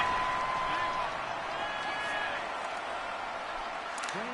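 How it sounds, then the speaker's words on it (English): A stadium crowd in Madden NFL 19 roars and murmurs in a broad, steady wash after a pass interference penalty, with loud continuous noise throughout and a few faint tonal game sounds on top. "Well, the crowd doesn't like that."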